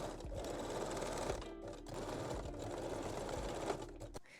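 Sewing machine stitching a small zigzag on lingerie elastic, a steady, fast mechanical whirr running continuously at close range with a couple of brief pauses and no talking.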